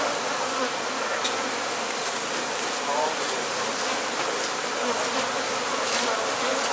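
A dense swarm of honeybees drones all around during a hive relocation, a thick, close, continuous buzz with faint voices beneath it.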